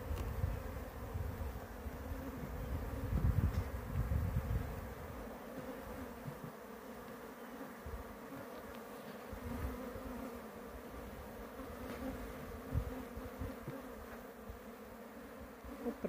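Honey bees buzzing steadily during a hive transfer outdoors in the countryside, a dense continuous drone of many insects at moderate level with occasional nearer passes and handling noises.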